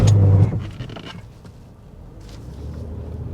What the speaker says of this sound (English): The noise you heard there was the brakes.